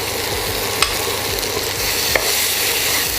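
Peeled, cut potatoes with slit green chillies stirred in hot oil in a pan: a loud, continuous sizzle with two sharp spatula clicks against the pan.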